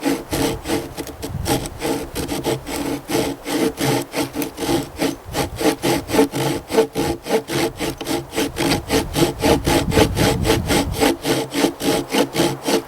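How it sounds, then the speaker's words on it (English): Saw cutting stair-step notches into a seasoned dry log for a bow drill fire, with steady, rhythmic back-and-forth strokes close by. The strokes continue without a break and no one speaks. "we're going to go ahead and cut our stair steps"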